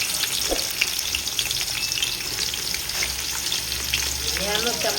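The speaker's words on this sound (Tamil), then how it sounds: "நறுக்கி வச்சு வெங்காயம் போட்டுக்கலாம்." Chopped onions fry in groundnut oil for a country chicken biryani, a loud continuous sizzle with occasional crackles and the scrape of stirring close by.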